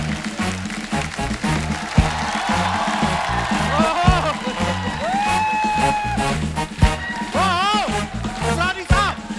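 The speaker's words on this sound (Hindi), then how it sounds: "आप सबकी जोरदार तालियों के बीच प्लीज वेलकम असरानी साहब" A studio audience applauds and cheers to welcome Asrani on a comedy show, the steady clapping mixed with loud music and a voice singing over it.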